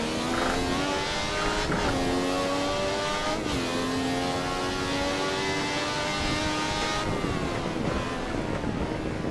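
A Ferrari 312T's flat engine in Assetto Corsa on the Nürburgring, a loud continuous high-pitched racing howl that climbs steadily through the revs with brief dips at gear changes, wind rushing underneath.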